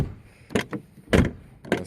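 Door of a 1982 BMW E23 735 swung shut a few times, giving three short, fairly loud thuds spaced about half a second apart with quiet gaps between, no talking.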